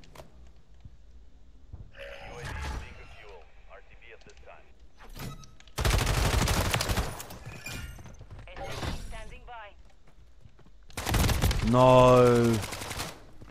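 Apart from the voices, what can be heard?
gunfire in a video game shooting challenge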